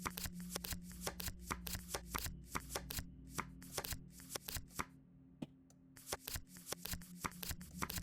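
A deck of cards is shuffled in the Prognostic video game, giving a dense run of crisp, rapid riffling flicks in repeated bursts with a brief pause midway, close and clear over a low steady hum.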